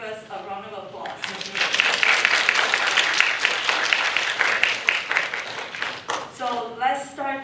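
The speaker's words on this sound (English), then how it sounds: "I would like to invite every one of us to give us a round of applause." A conference audience applauds, a dense sustained wave of clapping that swells in and holds steady for several seconds before thinning out, with a voice speaking briefly before and after.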